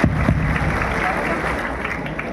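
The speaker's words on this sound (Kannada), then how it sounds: "ನಮ್ಮ ನಿಡಸೋಸಿ ಅಜ್ಜ ಅವರಿಗೆ ಒಂದು ಜೋರು ಚಪ್ಪಾಳೆ ತಟ್ಟಿ ಸ್ವಾಗತ ಮಾಡ್ರಿ" Dense, steady applause from an audience welcoming a speaker at a public gathering, loud and continuous throughout with a slightly stronger burst at the start.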